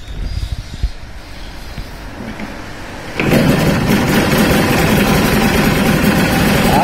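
A Yamaha TZR250R SP two-stroke motorcycle with an overhauled engine and Jackal expansion-chamber exhaust is kick-started. A few low thumps come first, then the engine abruptly catches and settles into a loud, steady, buzzing idle close by.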